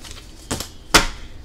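A deck of tarot cards gives two brief, crisp riffling snaps about half a second apart, close and clear with no talk over them.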